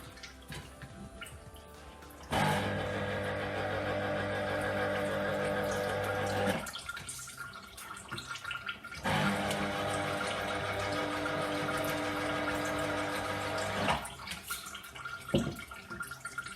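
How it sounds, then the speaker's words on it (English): Lemon juice pouring from a small handheld juicing machine, a steady splashing stream that runs for several seconds, pauses, then flows again, close and fairly loud with no talk over it. "See the juice coming out."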